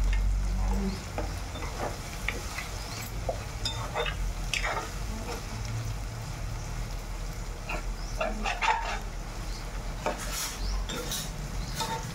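Ginger and shallots fry in a pan with a continuous crackling sizzle, broken by frequent stirring and the scrape of a utensil against metal. No voices.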